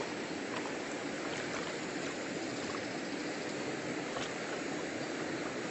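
River water rushing steadily during a hike's river crossing, a dense, continuous close roar with occasional faint splashes as someone wades through.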